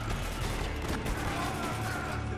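Sustained, dense gunfire from the video game Spec Ops: The Line: overlapping automatic bursts and shots form a steady, loud barrage with no pause.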